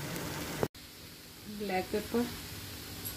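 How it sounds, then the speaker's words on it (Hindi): Food seasoned with salt, chaat masala and black pepper frying in a pan over a high flame for a diet dinner: a steady, close sizzle, with a voice talking over the cooking partway through. "बस हाई फ्लेम पे रख के तो उसको कुक कर लेना है"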